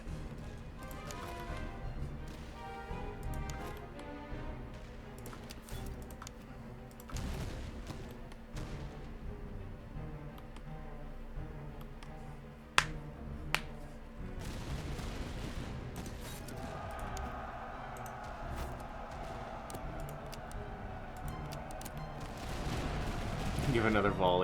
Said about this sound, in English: we'll do one more volley, charge, and then see how it goes